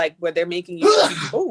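A single sharp sneeze bursts out in the middle of a casual podcast conversation, loud and close, with people talking just before and right after it.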